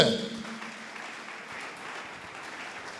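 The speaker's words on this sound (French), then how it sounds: "Acclamons la parole de Dieu." A church congregation bursts into applause during a sermon, a loud wash of clapping at the start that fades into a sustained, softer spread of clapping from many hands across the room.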